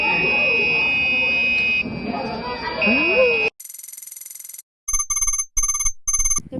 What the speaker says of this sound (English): listened as our melody played through the buzzer